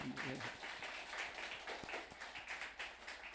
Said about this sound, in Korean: 함께 박수 한번 하겠습니다